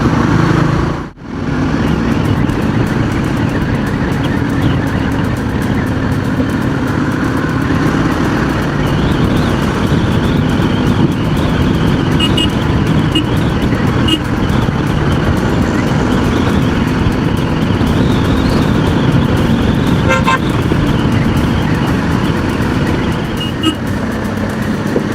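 A Royal Enfield Himalayan 450 motorcycle cruising and overtaking through traffic, with a constant loud engine drone and wind rush, a brief dip near the start, and faint passing vehicle noises around it.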